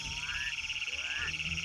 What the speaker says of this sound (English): the male North American spadefoot toad calls out to females.